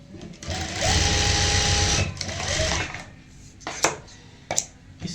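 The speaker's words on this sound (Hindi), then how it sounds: "और यहाँ पे लगा लेंगे सिलाई।" A sewing machine stitches a fabric strip into a triangle-shaped neck design, running steadily and loudly for about two seconds, then stopping before a few light clicks and handling sounds.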